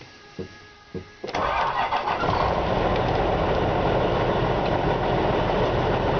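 A few faint clicks, then a truck engine cranks and fires from cold, settling into a loud, steady rumbling idle nearby.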